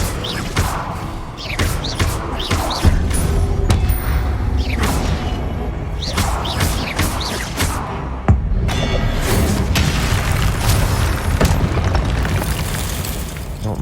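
Spell explosions from Incendio and Confringo in Hogwarts Legacy, a series of loud booming bursts and thuds at irregular intervals over roughly fourteen seconds, with rumbling between blasts.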